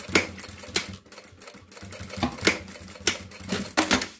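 A sewing machine runs a 3.5 stitch over a strap on a synthetic thermal bag, close and loud, in quick rhythmic bursts of stitching separated by brief pauses.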